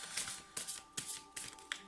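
A deck of playing cards is spread out by hand in a series of quick, soft papery swishes and slides, close and fairly quiet, with no talking.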